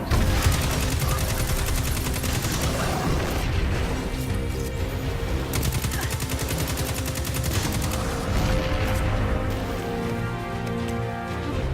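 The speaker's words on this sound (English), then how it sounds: "I try with the shotgun here." Gunfire in the video game Destiny 2, with a shotgun among the weapons, comes as dense, loud bursts of repeated shots and crashes that last the whole time, with a voice faintly under the noise.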